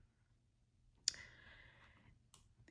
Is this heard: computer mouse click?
yes